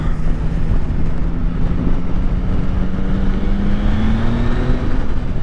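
Yamaha Tracer 9 GT+ motorcycle engine heard while riding, a steady loud drone with a rising pitch as it pulls, mixed with heavy wind rush, no voices.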